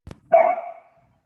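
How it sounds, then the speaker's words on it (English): A single short dog bark, close and clear, rings out once against a quiet background. "The dog."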